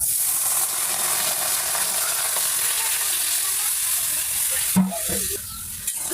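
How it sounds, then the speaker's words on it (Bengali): Dried taki fish simmers and sizzles in a pan with water, giving a steady bubbling hiss with a few scraping stirs and clinks near the end. "শুটকি ভাজা হয়ে গেছে, এখন পানি দিয়ে সিদ্ধ করে নেবো"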